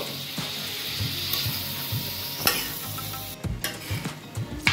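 Fried rice ingredients with chilli sauce stir-frying in a pan, a low sizzle broken by regular scraping strokes of a spatula, close and moderately loud, growing busier with clatter near the end.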